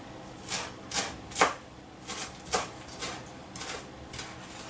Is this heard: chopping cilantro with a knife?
yes